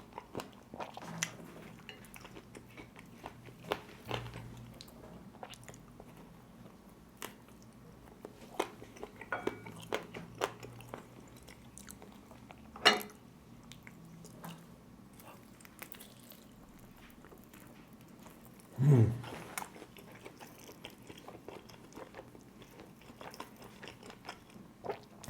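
Someone eating spicy Korean-sauced air-fried organic chicken wings alone at dinner, with quiet scattered bites, crunches and chewing close by and one louder crunch partway through, otherwise near silence.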